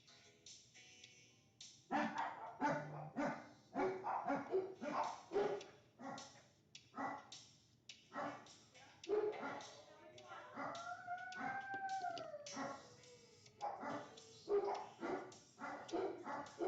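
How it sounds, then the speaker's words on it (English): Several dogs barking and howling indoors in a house, loud repeated barks with drawn-out howls in the middle, continuing throughout. "Dogs gonna start barking in a minute."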